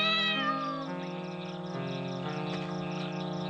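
A kitten meows in a cartoon scene, its thin, drawn-out cries rising and falling over a steady musical backdrop, close and clear throughout.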